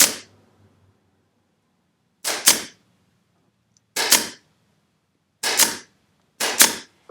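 A staple gun fires staples through fabric onto a French chair during reupholstery. Four sharp double-clack shots ring out at spaced intervals after an opening click, close and fairly loud against quiet.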